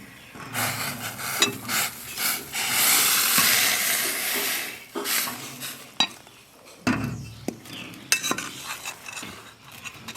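Close kitchen sounds of boiling water poured into flour with a sizzle early on, then stirring and scraping in a bowl with intermittent clinks and rubbing of a utensil, making kozhukattai dough.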